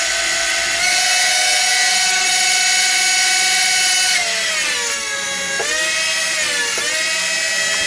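Upgraded Night Lion motors on a Syma X8C drone spinning together, a loud steady electric whine that holds, then dips and bends in pitch as the motors change speed, close up with no talk.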